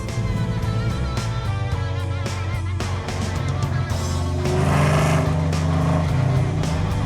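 A 1971 Plymouth Cuda accelerating hard through its gears, a loud, close engine roar that rises in pitch, briefly drops at a shift near the middle, then climbs again, with no talk.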